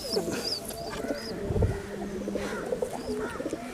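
A tournament-flown racing pigeon in a breeding loft coos in soft repeated throaty rolls, with other birds chirping faintly and light rustling nearby.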